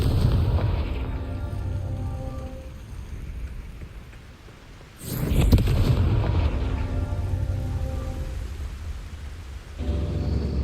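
A Confringo fire spell explodes in Hogwarts Legacy as a deep rumbling blast that swells, dips, then erupts into a sharp loud burst midway, followed by sustained roaring fire and another surge at the end.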